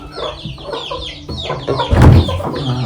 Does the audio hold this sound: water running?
no